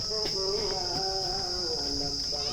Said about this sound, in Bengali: এই ঝিঝি পোকার ডাক শুনছো